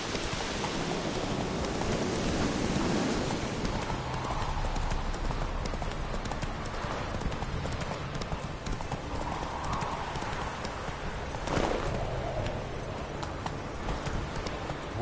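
A horse gallops in the Witcher 3 video game, steady rapid clip-clop hoofbeats running throughout over rainy ambience, with a brief neigh and faint game voices.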